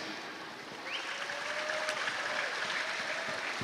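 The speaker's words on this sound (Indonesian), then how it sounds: "karena tepuk tangan udah meriah, saya stop." An audience applauds during a panel discussion with Rocky Gerung. Steady, fairly faint clapping is heard throughout, as if from a hall at some distance.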